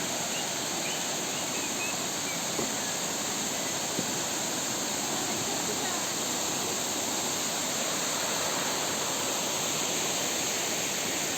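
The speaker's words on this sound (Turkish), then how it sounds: "Evet, Mençula Şelalesi." Steady, dense roar of Mençuna Waterfall in Arhavi, Turkey, continuous and fairly loud, with no talking and only faint hints of birds in the background.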